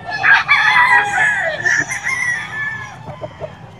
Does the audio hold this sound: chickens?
yes